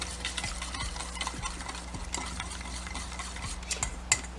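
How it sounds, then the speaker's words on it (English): A wasabi mayo dipping sauce with rice wine vinegar is mixed in a bowl, rapid rhythmic light clicking of a utensil against the bowl, steady and fairly quiet, alone without talk. "Now let's get that mixed in."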